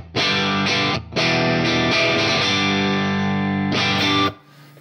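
Electric guitar through a Greenback speaker in a 4x12 cabinet via a Suhr Reactive Load, playing loud distorted sustained chords with a short break near one second and a final chord ringing out before a quiet tail.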